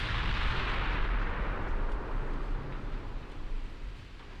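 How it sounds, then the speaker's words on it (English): Secondary guns on warships fire in a naval battle in Ultimate Admiral Dreadnoughts, a dense, continuous rumble of overlapping artillery booms that gradually fades in loudness, with no talk. "So it's all secondary guns now."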